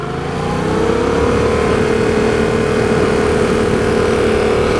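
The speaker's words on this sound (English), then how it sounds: "See, I'm going to upshift." A manual-transmission car accelerates and upshifts, its engine a loud, close, sustained drone whose pitch climbs steadily for several seconds after a brief quieter start, with no voices.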